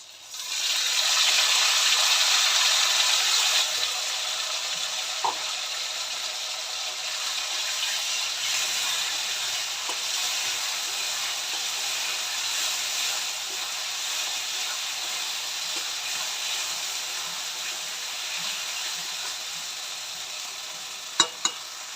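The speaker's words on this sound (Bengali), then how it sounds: "এবার পাকা কাঁচা লঙ্কা, জিরে, রসুন, আদা, পেঁয়াজ সমস্ত বাটা দিয়ে দিলাম।" Chilli, cumin, garlic, ginger and onion paste sizzle loudly with fried potatoes in a hot pan, a steady hiss that surges at first then settles, with a few brief clinks near the end.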